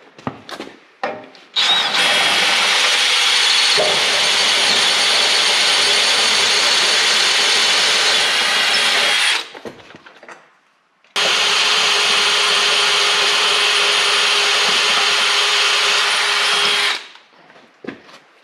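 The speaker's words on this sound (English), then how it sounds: "So this should be the last hole I drill through the frame." A power drill bores a hole through a tractor frame using a 23/64 bit, running loud and steady for about seven seconds, stopping briefly, then grinding through a second long, continuous burst close to the microphone.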